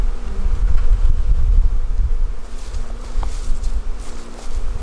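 Honey bees being moved into a bee barn buzz thickly and up close, a dense, fluctuating drone with passing individual buzzes and light handling rustles, no talk.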